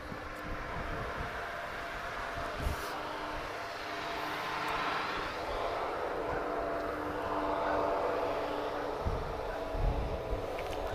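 Aircraft moving on the ground at Madeira Airport, a steady broad engine roar held through the whole stretch, swelling slightly in the middle with a few brief thumps, no talking.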